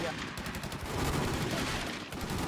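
Rapid automatic gunfire from a first-person shooter video game, dense bursts of shots running continuously and loudly through the whole moment with faint voices mixed in.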